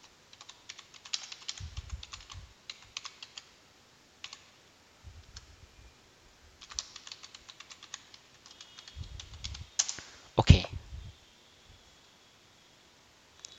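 Admin password typed on a computer keyboard during a Windows Server 2019 login: scattered bursts of quick, close key clicks with short gaps and a firmer clack near the end, no speech.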